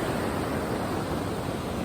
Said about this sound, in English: So what you're hearing is the water running off so very quickly because it takes such a drop